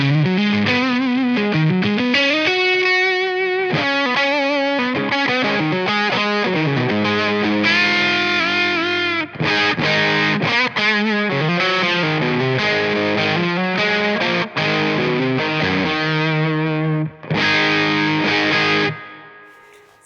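Electric guitar through a Line Driver distortion pedal set to a higher-gain, bright, crisp, sizzly 80s-style tone, playing a loud, continuous run of melodic lead lines and held notes for about twenty seconds, with no talking.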